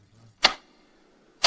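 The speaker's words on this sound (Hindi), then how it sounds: "घड़ी की सेकंड हैंड की आवाज चारों ओर गूंज रही है।" Two sharp, isolated clock ticks about one second apart, each a short bright click, close and fairly loud against near silence, in a dark, quiet room from a horror narration.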